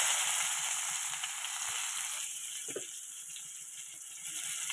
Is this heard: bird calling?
no